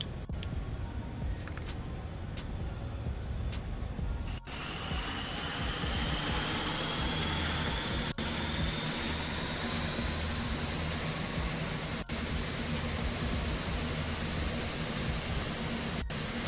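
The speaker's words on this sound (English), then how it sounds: "And I'm going to start engine number 2 now." An Airbus A400M Atlas turboprop engine (engine number 2) spools up in Microsoft Flight Simulator 2024, its steady roar and rising whine building and holding continuously for a long stretch, loud and close.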